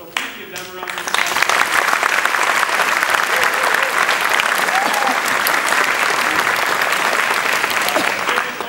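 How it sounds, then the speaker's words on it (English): A school spring concert audience breaks into applause for the students, the clapping swelling after a brief spoken moment and holding strong and even throughout, with a few voices and cheers mixed in. "So please give them a round of applause."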